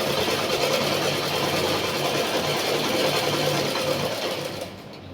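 A sewing machine runs steadily as it stitches a blouse border, a fast, even mechanical rattle heard up close that slows and fades just before the end, with no voices.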